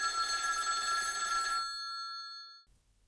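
A telephone bell rings in a short story, a bright metallic trill that sounds clearly and alone, then decays into a fading ring and silence.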